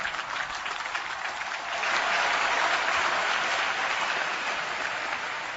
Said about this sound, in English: Let's give our graduates a tremendous round of applause.